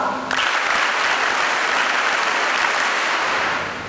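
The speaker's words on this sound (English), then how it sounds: "We should give the staff members here the star applause." Audience applause for school staff at an official school opening ceremony, a dense, steady clapping that starts abruptly and fills the whole stretch at high volume before easing slightly at the end.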